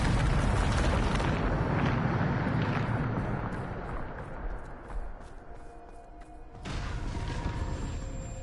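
A Bombarda blasting spell detonates in Hogwarts Legacy: a loud, broad roaring blast that slowly subsides into a lower rumble, then surges back with a second burst near the end.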